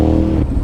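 A loud, close engine roar with a deep rumble that rises briefly, a 2009 Ducati Monster 1100 motorcycle being revved in a parking lot.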